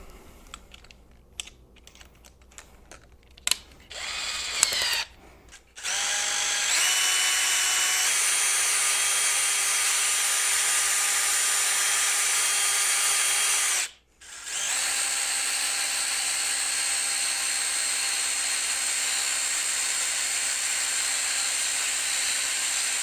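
A cordless drill turning a screwdriver wrapped in duct tape, used to spin model car tires against a 180-grit sanding pad, whirs steadily and loudly for long stretches, stopping briefly once before spinning up again, after some faint clicks and taps.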